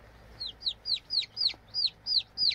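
A chicken gives a steady series of about eight short, evenly spaced clucks, close and clear against a quiet background.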